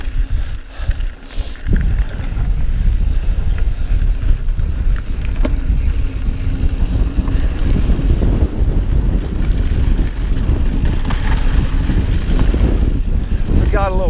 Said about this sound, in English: the wind is at our back when we're doing the straight descent